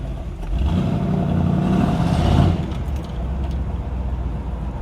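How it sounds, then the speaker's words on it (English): A small-block Chevy V8 with an Edelbrock ProFlow setup and true dual exhaust without a crossover rumbles under load, rising to a revving peak before easing back to a lower drone, with interior rattles and no talk. "it's got that double 4-cylinder sound with just true duals and no crossover"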